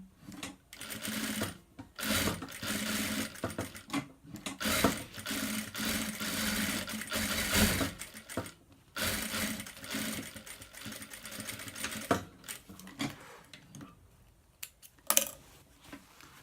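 A sewing machine runs in long bursts, stitching a pocket onto the body of a round bag, with a steady mechanical whir broken by short stops and small clicks of handling between runs.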